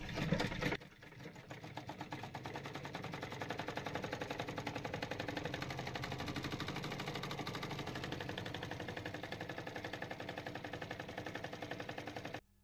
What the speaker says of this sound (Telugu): చూడండి మిషన్ కుట్టే విధంగా వస్తుందో అనేది చూడండి